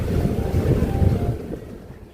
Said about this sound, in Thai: เสียงคลื่นลมแรงเลยค่ะ